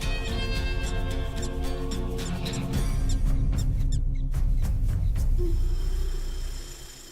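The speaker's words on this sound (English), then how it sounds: "They successfully defend their land and celebrate victory with a different call. The jump yip." A dogs' jump yip victory call rings out in the wild: a dense, continuous run of high, squeaky yipping and chirping calls, loud and close, fading away at the end.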